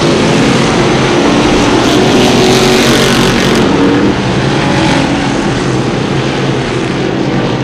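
A pack of Crate Sportsman Modified race cars roars into turn 1 of a dirt oval during a 602 Crate event, a loud, dense and steady engine drone that swells briefly in the middle, heard close and with no voices.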